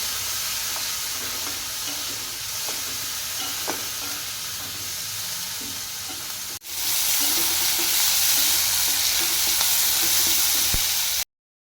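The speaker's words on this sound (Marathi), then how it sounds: "तेल न टाकता रवा तेल न टाकता भाजलेला रवा" Semolina dry-roasting in a pan with no oil gives a steady broadband hiss and rustle that runs continuously, with a brief drop midway before it resumes slightly louder, close by and without voices.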